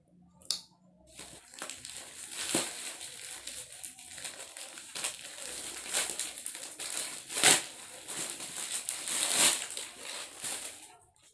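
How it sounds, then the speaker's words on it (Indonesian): Plastic packaging from a Shopee parcel crinkles and crumples in repeated bursts while it is opened, close and fairly loud, with short sharp tearing peaks and no talking over it. "Langsung aja kita unboxing yang pertama."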